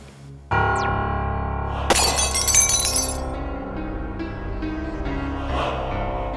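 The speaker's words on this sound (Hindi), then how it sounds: "कांच का पुतला टूटा, लेकिन कोई पत्थर नहीं, कोई तीर नहीं, कोई गोली नहीं।" A glass statue shatters in a courtroom drama scene: a sudden loud crash of breaking glass with bright tinkling shards, then a lingering dramatic musical drone beneath the settling debris.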